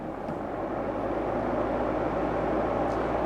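A steady, loud broadband whoosh of a Milwaukee M18 brushless 18-inch cordless fan running at high speed, close by, with a constant airy roar and no talking.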